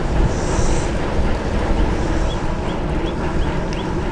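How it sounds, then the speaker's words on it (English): Steady, blustery wind roar buffets the microphone on a commuter bike with flat or bullhorn handlebars riding at about 23.6 mph on a warm day, a continuous close rumble with no breaks. "Oh, the wind feels really nice."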